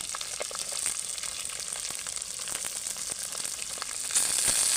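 Finely chopped vegetables frying in a hot oil tempering with spices for vegetable rice, a continuous close sizzle with scattered crackles that swells slightly louder near the end.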